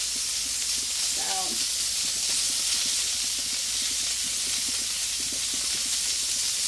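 Food sizzles steadily on a Blackstone flat-top griddle, with cheese melting on top. The frying hiss stays constant and fairly close throughout, and soft scraping or stirring can be heard underneath.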